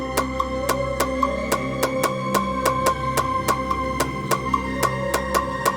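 A drill beat plays a counter snare pattern through a mixer effect chain, with sharp, evenly repeating snare and hat hits over sustained melodic and bass layers, loud and continuous with nobody speaking.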